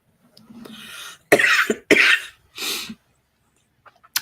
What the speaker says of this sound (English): I'm feeling some coughing.